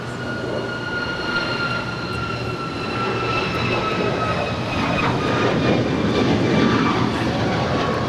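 A jet airliner roars at LAX near runway 25 right, loud and sustained, with a steady whine over a broad rushing rumble that swells slightly toward the end.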